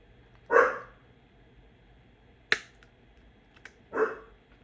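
A pet dog indoors gives three separate barks spaced a couple of seconds apart, moderately close, with quiet room tone between them.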